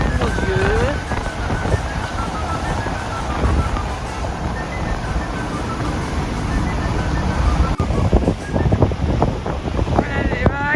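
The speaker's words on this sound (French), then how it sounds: "Voilà les vagues." Sea waves at the old town of Cefalù in Sicily, heard as continuous rushing surf mixed with gusty wind buffeting the microphone, with a few louder crashes toward the end.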